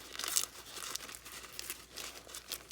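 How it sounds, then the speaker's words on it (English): Paper being torn by hand for a junk journal, likely watercolor paper, gives several dry crinkling, ripping bursts in a quiet room, fairly soft and close. "So we'll just do some ripping."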